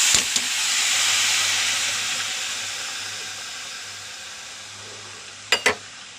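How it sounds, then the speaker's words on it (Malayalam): Pork seasoned with turmeric and salt cooks in a covered pot, giving a steady soft hiss and steam that fades slowly, with a couple of sharp knocks near the end. "പോർക്കിറച്ചി മഞ്ഞൾ ഉപ്പിട്ടിട്ട് വേവിക്കട്ടെ ആദ്യം അത് മൂടി വെച്ച് വേവട്ടെ"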